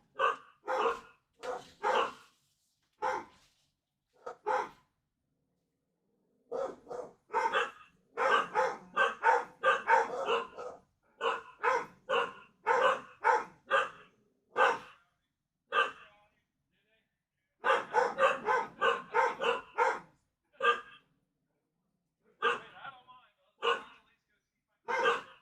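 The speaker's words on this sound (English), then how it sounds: "There's a stray dog walking around." A stray dog barks repeatedly in short, irregular bursts and clusters with brief quiet gaps between them, moderately close and clear over a quiet background.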